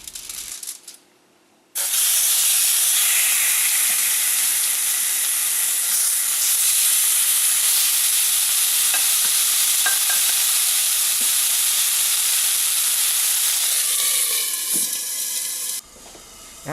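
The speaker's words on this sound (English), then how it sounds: "I love the sound of the sizzling meat." Loud, steady sizzling of pork chops frying in a hot pan, a continuous hiss with occasional pops, cut off abruptly at the end.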